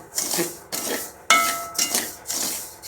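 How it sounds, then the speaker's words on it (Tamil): Wheat semolina (rava) dry-roasted in a pan over medium heat and stirred, giving repeated gritty scraping strokes in bursts of sweeping rasps, close and fairly loud with no talking. "முதல்ல நம்ம கோதுமை ரவையை வறுத்து எடுத்துக்கலாம்"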